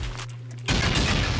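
In Rust, a rocket launcher fires at base walls: a quieter stretch gives way to a sudden loud, dense blast of impact and explosion that stays heavy to the end.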